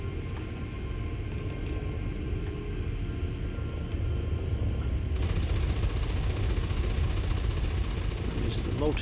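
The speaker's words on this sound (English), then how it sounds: "Multi-cannons, which are like machine guns, kinetic weapons." Multi-cannon kinetic weapons on a fighter in the space game Elite Dangerous fire in a dense, continuous rattling stream over a steady engine drone, getting slightly louder partway through.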